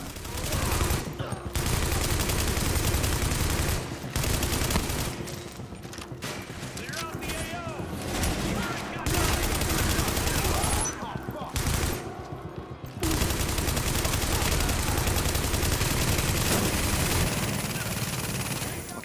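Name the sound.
gunfire in video game The Division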